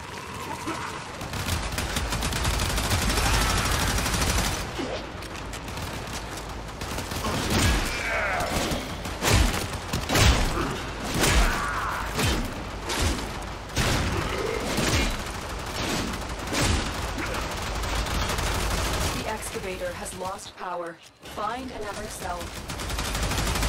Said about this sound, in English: These heavy gunners are bad news.